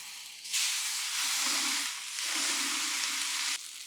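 A steak searing on a Weber kettle grill, a loud, broad hiss that starts abruptly, dips briefly, then surges again before cutting off.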